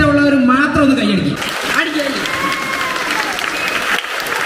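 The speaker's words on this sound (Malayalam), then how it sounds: "വ്യക്തിപരമായി അമ്മയെ ഇഷ്ടമുള്ളവർ മാത്രം ഒന്ന് കൈയടിക്കും" A stand-up comedy audience breaks into dense, sustained applause that swells after a voice and continues steadily to the end, loud and close, with scattered chuckles in the crowd.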